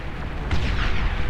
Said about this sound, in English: Those new explosion effects with the new update, giving that shock wave